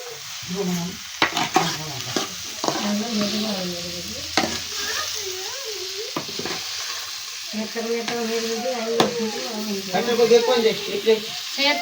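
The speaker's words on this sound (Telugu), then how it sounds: "నూనెలో వేసి మంచిగా వేపుకోవాలి దొండకాయలు" Ivy gourd sizzles and fries in hot oil while a spoon stirs and scrapes the pan, with a voice talking over it throughout.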